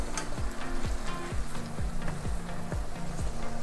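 Cold butter melting into chicken Marsala sauce in a cast iron pan gives a steady, close sizzle with a regular pattern of soft bubbling pops throughout, and no one speaks.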